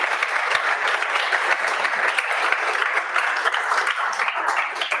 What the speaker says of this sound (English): another big round of applause for Jamie